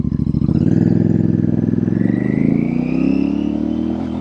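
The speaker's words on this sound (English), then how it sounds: "Now that is a big truck." A big truck rumbles past close by on a road, its loud engine drone shifting and rising in pitch as it goes, heard alone without talk.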